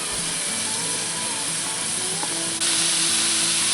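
Venison sizzling as it browns in a cast iron pan, a steady close hiss with faint crackles that runs throughout and swells slightly near the end.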